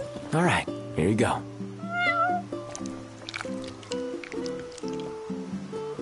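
A cat meows twice in the Final Fantasy XV video game, loud, rising and falling calls near the start, followed by softer game music and a person talking over it.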